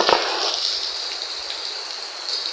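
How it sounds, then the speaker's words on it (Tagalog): Steady rain pours down with a dense hiss and scattered patter of drops, close and fairly loud, no voices. "Nakita yung ulan, no? Sa malakas."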